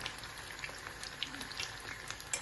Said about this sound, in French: il faut que l'huile de cuisson recouvre les nems pour que ça soit cuit uniformément